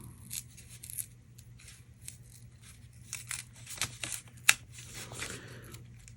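A paper front panel, stuck down with dotted adhesive tape, is peeled away from a trifold shaker dome card base: soft intermittent crinkling and tearing with one sharp snap near the end, all over a low steady hum, no voices.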